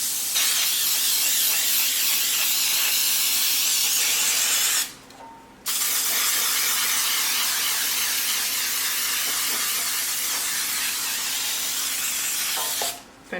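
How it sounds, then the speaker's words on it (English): An aerosol can of baking spray hisses loudly onto a pan in two long sprays separated by a brief pause, with a short stop at the very end. "I'm going to spray it pretty well with the Pam baking spray."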